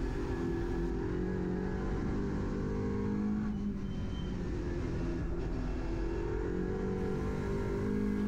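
An Audi RS3 LMS touring race car at almost full throttle on the Nürburgring Nordschleife, a sustained loud engine drone heard from onboard with steady road and wind roar and a brief dip for a short lift.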